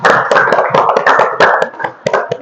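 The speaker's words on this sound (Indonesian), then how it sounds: "Kita berikan aplaus." A classroom group claps for a group presentation, a short burst of loud, close, uneven handclaps with irregular rhythm, trailing off after a couple of seconds, no talking.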